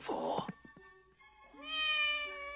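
A cat meows for its breakfast in an animated film scene: a short rising-and-falling meow after some brief clatter, heard close and clear with no one talking over it.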